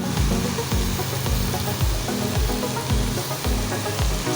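Steady sizzling and frying of pre-fried spice mix being added to chorchori, a Bengali mixed-vegetable dish cooking in a pan, with a rhythmic scraping stir repeating about every half second; no talk.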